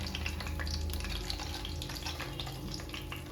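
Whole spices such as cardamom, fennel, poppy seeds and cashews frying in a pan for chicken biryani, with a steady, even sizzle that is close and moderately loud, with no pauses.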